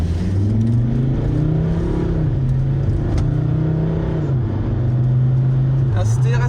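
A Volvo with 368,000 km accelerates on the A6 motorway, its engine droning loudly and steadily, rising in pitch with a couple of gear shifts.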